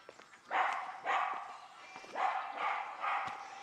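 A dog barks in several loud bursts, a couple of quick woofs followed by more spaced barks, fairly close with outdoor background.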